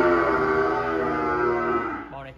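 Cattle on a Vietnamese farm moo in one long, loud, sustained call close by, fading out at the end.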